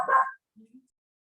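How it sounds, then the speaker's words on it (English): A single short, close bark from a dog, followed by a couple of faint low grunts or whimpers, then silence. "Excuse my dog."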